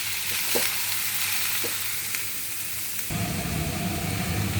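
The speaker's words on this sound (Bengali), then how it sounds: "আস্তে আস্তে এগুলোকে নেড়ে এরপরে মশলাটা দেবো।" Mixed vegetables fry in a pan under a constant loud sizzle, with a few scraping stirs cutting through before the frying noise swells louder and denser partway through.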